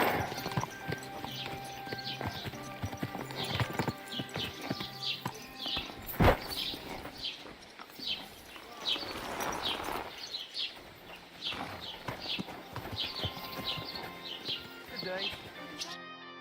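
Horse hooves clip-clop at a steady pace in the medieval game Kingdom Come: Deliverance II, mixed with birdsong and ambient sounds, while speech runs over much of the passage.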